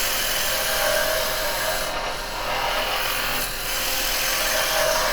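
A woodturning gouge cuts long ribbons from a spinning yew blank on a lathe, making a continuous loud rasping, shaving hiss that dips briefly midway as the tool shifts, with no talk.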